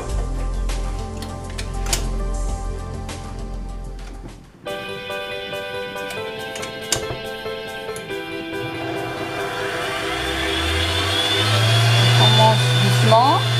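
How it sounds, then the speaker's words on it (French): A blender whirs through chocolate mousse ingredients with a pinch of salt, its motor starting after a brief pause and climbing steadily louder as it speeds up, with a person talking over the kitchen noise. "Et on les met à mixer."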